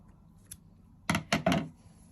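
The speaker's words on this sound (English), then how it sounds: "I'm just gonna snip and tie off." Scissors snip through crochet yarn in two or three quick, close, faint cuts after a single small tap, in an otherwise quiet room.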